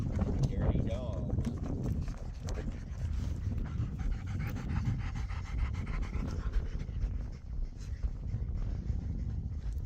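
A dog pants rapidly and steadily close by for the whole stretch, with a voice talking over the breathing.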